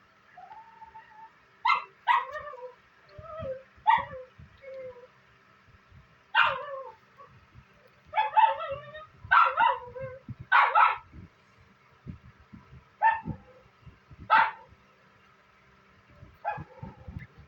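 A Shih Tzu that has just given birth gives a series of short, sharp barks and yips, spaced by whimpers and quiet gaps. The sounds are close and fairly clear against a quiet room.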